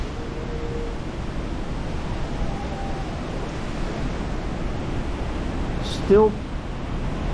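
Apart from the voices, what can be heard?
typhoon wind blowing outdoors, Typhoon Mawar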